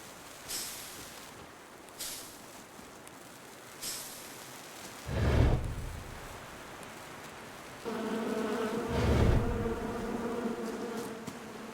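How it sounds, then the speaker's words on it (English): Honeybees buzzing in the Reka video game, a close humming drone that swells in the second half, with a few soft thumps and swishes scattered throughout and no speech. "Bees are actually, like honeybees are actually pretty docile."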